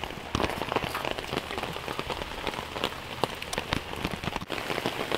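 Heavy rain pattering densely and steadily on an umbrella outdoors during a barbecue chicken cookout, with loud, close drops spattering continuously throughout and no talking.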